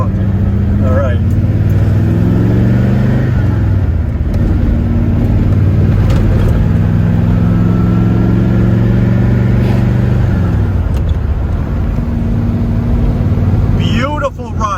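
A 1969 Corvette with a manual stick shift drives along, its engine a loud, rumbling drone that rises and falls as gears change, with a few dips between shifts; someone talks over the engine throughout.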